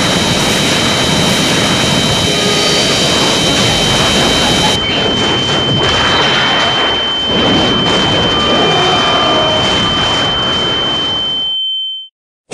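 Airplane engine in the video game GTA San Andreas roars loud and continuous, a dense broadband rumble with a steady high whine that shifts partway through, then cuts off abruptly near the end.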